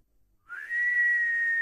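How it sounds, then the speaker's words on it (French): A person whistles one steady, clear, sustained tone that starts abruptly and holds without a break, close and alone. "c'est toi qui siffle?"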